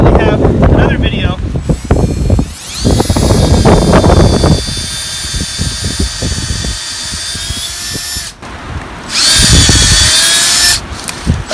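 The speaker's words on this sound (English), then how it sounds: "This is why we have to sometimes drill deeper" Power drill boring into a maple tree trunk to tap it for sap, with loud whining bursts that start and stop several times, broken by rustling and handling noise close to the microphone.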